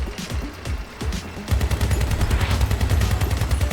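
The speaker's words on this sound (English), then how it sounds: "And does have the bigger, heavy-duty machine guns on it instead of the lightweight ones we had." Heavy-duty machine guns mounted on a gold Apollon vehicle in Crossout rattle in rapid, loud, close bursts, choppy at first, then a steady unbroken stream of fire.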